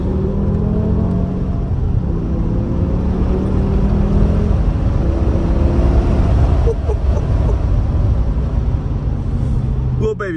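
A 2006 BMW M5 E60 pulls hard from inside the cabin, a loud, continuous engine roar and whir that holds strong throughout, with road rumble underneath and a brief rattle near the end.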